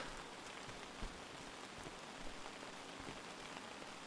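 Steady rain falls at a campsite in the camper-building game Outbound, a dense, even hiss of drops with a few slightly louder patters. It is continuous, close and moderately quiet, with no voices.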